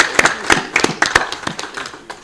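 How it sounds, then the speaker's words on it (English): An audience at a Gambia Revenue Authority taxpayers charter launch breaks into brief clapping, a quick run of sharp, close hand claps that thin out and fade over about two seconds. "Maybe clap for that."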